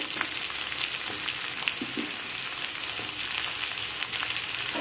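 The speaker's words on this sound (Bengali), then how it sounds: "এখন এর মধ্যে দিয়ে দেব কেটে রাখা বেগুন" Cut brinjal goes into a pan with beans and stir-fries in oil, producing a continuous, fairly loud broadband sizzle with a few soft stirring clatters and no talking.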